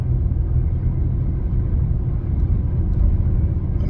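A truck rolls alongside on the road, heard from inside a car as a steady, loud low rumble of engine and tire noise that holds evenly throughout, with no voices.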